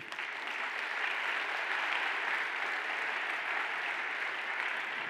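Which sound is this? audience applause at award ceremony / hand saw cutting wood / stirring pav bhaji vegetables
audience applause at award ceremony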